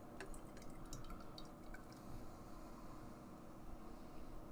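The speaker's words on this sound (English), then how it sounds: "let's pour this guy and see what this guy looks like on the pour." Non-Stop, a dry-hopped double IPA from Untitled Art and BlackStack Brewing, is poured into a glass, giving a faint, steady liquid trickle with small splashy drips near the start.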